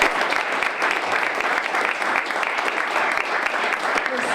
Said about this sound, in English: I'd like everybody to give both of you another round of applause